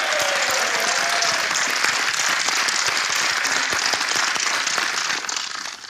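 Applause from game show contestants, a dense sustained clapping wash that holds steady for several seconds before thinning and fading near the end.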